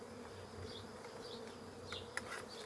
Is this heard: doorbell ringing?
no